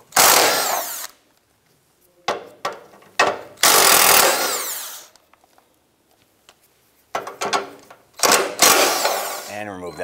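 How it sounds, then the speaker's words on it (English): A ratchet with a 12 mm deep socket spins off rusty nuts holding a bracket on a 2007-2012 Nissan Versa catalytic converter pipe, loud rapid clicking bursts coming in several spaced runs close to the mic. "use our 12 millimeter deep socket to remove the four nuts supporting this here"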